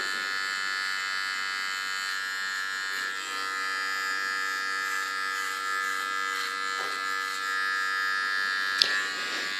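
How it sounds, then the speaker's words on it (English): A small electric hair clipper buzzes steadily and close while trimming the contour of facial hair for a short tattoo-style haircut, with a high, even whine and a couple of brief clicks near the end; no one speaks. "With my small clipper, I clean the contour again."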